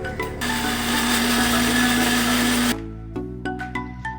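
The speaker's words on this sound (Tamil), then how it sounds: "கொஞ்சம் வெங்காயம், கொஞ்சம் தக்காளி மிக்ஸி ஜாரில் போட்டு நல்லா பேஸ்ட்டாக அரைச்சி எடுத்துக்க போகிறோம்" A mixer grinder churns onion and tomato into a paste, a loud steady motor whir with grinding hum that runs for nearly three seconds before cutting off, followed by a few brief clinks and knocks.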